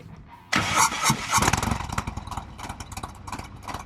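A motorcycle with a Zippers 124 sleeper kit, Fuel Moto 2-1-2 head pipe and Fuel Moto Jackpot mufflers cranks and fires up sharply, then settles into a loud, lumpy, uneven idle, close by with no voices.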